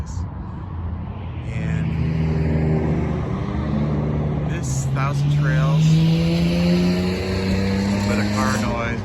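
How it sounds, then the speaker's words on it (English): Car traffic on the main road beside a Las Vegas RV resort, a continuous engine hum with vehicles passing by and revving, while someone talks over it. "a little bit of car noise, we're right on the main drag here"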